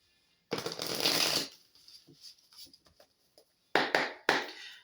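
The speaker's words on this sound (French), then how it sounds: "je vais vous tirer d'autres cartes" Tarot cards drawn and handled during a reading: a long close shuffle-like riffle of cards, then softer scattered taps and slides of cards being laid down, with two sharper card snaps near the end.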